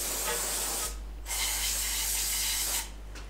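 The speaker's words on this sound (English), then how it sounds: "I used just a little bit of disc brake cleaner to slide them on" Disc brake cleaner sprayed onto orange bike grips in a few close, loud hissing bursts: a long spray, a brief pause, then another sustained blast before it cuts off.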